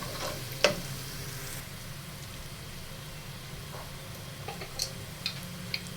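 Onions and sugar caramelize in a pan with a low, steady sizzle, broken by a few light clicks of a spoon stirring, close and fairly quiet.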